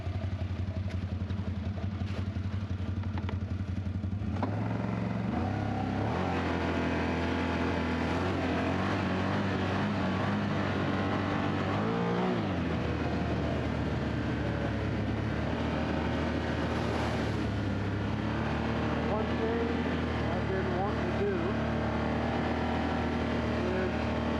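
A 2025 Can-Am Outlander X MR 850 ATV runs through a ride on a fall day, its engine droning loudly and continuously, rising and falling in pitch as the throttle changes, close to the recorder.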